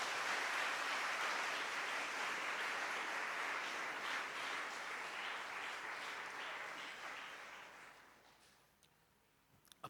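Church congregation applauding together at a Christian service, a broad sustained clapping wash that holds steady for several seconds, then fades and trails off to near silence with a few last scattered claps.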